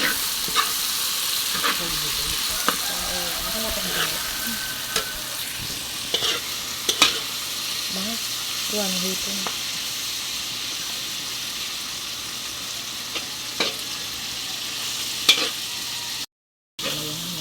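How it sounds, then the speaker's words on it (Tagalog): Chicken and shrimp sizzle steadily in a hot pan, with a constant frying hiss, occasional clinks and scrapes of stirring, and a brief dropout near the end. "Ayun nga po at prito na po yung manok"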